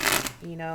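A deck of tarot cards riffles briefly in a quick shuffle near a freeway, with a voice talking over it.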